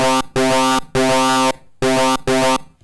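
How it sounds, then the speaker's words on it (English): Five separate bursts of a harmonic synthesizer tone with its FM amount modulated by an LFO, each note's pitch and brightness rising within the burst, loud and dry, separated by short silences. "we're getting that upwards kind of sweep of frequencies or addition of higher harmonics"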